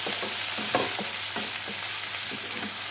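Shrimp fry with onions in a hot pan, a dense steady sizzle broken by soft scraping stir strokes at a regular pace, close and loud with no voices.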